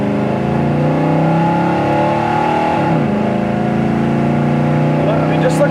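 A 1970 Chevrolet Chevelle engine drones steadily at highway cruising speed, a constant low rumble with road and wind noise and no pause throughout.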